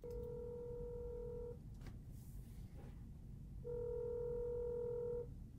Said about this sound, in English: I chopped this phone ringing sound and pitched it.